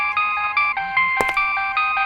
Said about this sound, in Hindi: हमारी मैडम का फोन बज रहा है